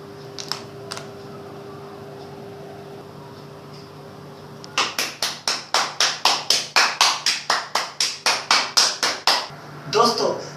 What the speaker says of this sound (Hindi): तो तालियों के साथ स्वागत करें आफ्ताब आलम का।